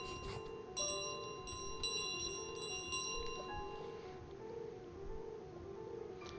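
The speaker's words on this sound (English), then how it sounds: "We've got to take this bell all the way back through the pub." A bell carried by the goose in Untitled Goose Game jingles in a rapid series of bright rings for about four seconds, then stops, leaving a steady game background.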